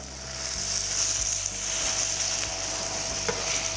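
Salmon fillets sizzle steadily in avocado oil in a pan for an apple-glazed salmon dinner, a close, even crackle of frying with faint low thumps underneath and no voices.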